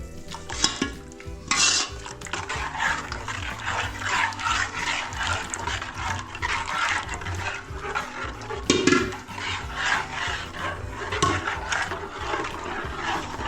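Wheat batter for kurdai being stirred into boiling water in a pot off the heat, with a steady run of scraping and clinking from the utensil against the metal pot, loud and continuous without talk.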